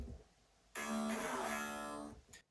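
A texture bass line swells in after a quiet start, holding a bright, buzzy, dense sustained tone for over a second before it fades out. No one speaks.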